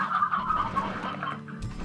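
Chickens cluck in the video game Slime Rancher, a run of close, fairly loud clucks over soft game ambience.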